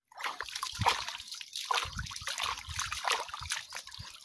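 Unripe mangoes are washed by hand under running water, with close trickling, splashing and sloshing that keeps going steadily and briefly swells in louder splashes.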